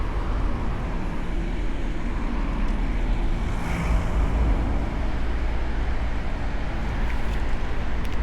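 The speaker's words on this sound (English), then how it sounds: "It's so windy, I'm having a hard time riding no-handed." Strong wind buffets the microphone while a rider cruises a BMX bike on a long road commute, a steady loud roar of gusts and rumble filling the whole stretch with no talk.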